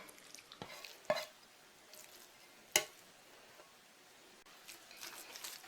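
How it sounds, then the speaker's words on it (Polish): Minced meat with mushrooms, breadcrumbs, dill, salt and pepper is worked together by hand in a bowl, giving quiet, sparse wet squishes and a couple of sharper slaps, with no talking. "Mięso z pieczarkami teraz dokładnie wymieszam"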